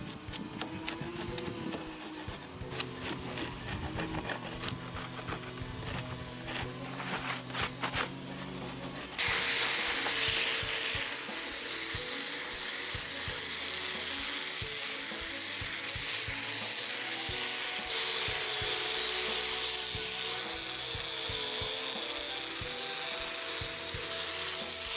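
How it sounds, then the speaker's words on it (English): Rough, continuous scraping of a wire brush working over a wooden log to strip off gunk, first uneven and rattly, then a steadier, louder abrasive whir, close and alone. "So we've got the whole log wire brushed, got most of the gunk off."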